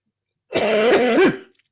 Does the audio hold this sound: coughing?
yes